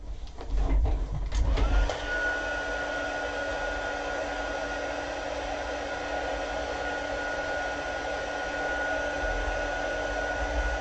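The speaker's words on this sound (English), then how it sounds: "let me just grab my heat tool and let's dry it a little bit" A heat gun drying ink on paper for shadow stamping: a handling clatter, then a steady, close electric blower whir with a faint whine that runs unbroken to the end.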